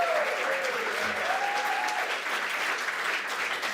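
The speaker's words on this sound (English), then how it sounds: "big round of applause for that" Sustained, loud applause from an audience at a data and digital showcase event fills the whole stretch, steady and dense, with a voice briefly audible over it.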